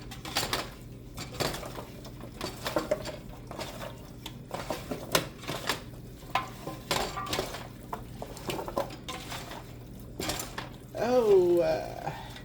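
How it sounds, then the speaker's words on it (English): Utensils scrape and clink against a bowl as ingredients are stirred, an irregular series of close knocks and rattles in a quiet room. "we're going to give this a good old mix."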